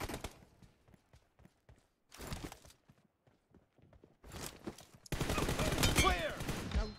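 Automatic rifle fire in the PUBG battle royale game comes in several short rapid bursts, separated by quieter footsteps and rustling, ending in a louder, sustained stretch of shooting and clatter.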